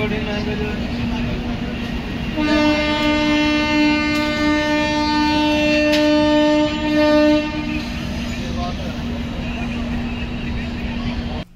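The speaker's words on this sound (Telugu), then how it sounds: "ట్రైన్ గుత్తి నుంచి అయితే డిపార్చ్ అవుతుంది." A train departing Gooty Junction railway station rumbles nearby while a long, loud horn sounds for several seconds, with voices talking underneath.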